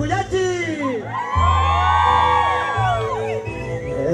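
A crowd at a village gathering in Santiago Yucuyachi shouts, whoops and cheers loudly in a sustained burst, with an amplified voice calling out over the noise.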